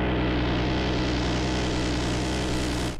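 Aircraft engine of a VTOL in the Ravenfield video game, a loud, steady droning roar that holds constant throughout before cutting off abruptly near the end.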